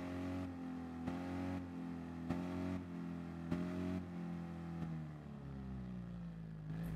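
A lawn mower's motor revs hard through a rough patch of ground, a buzzing engine note that surges and dips in several bursts before easing off toward the end.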